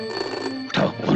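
An old-style telephone rings in a tense indoor scene from a Hindi film, a single electronic ring heard briefly and close before a sharp crash-like jolt cuts in.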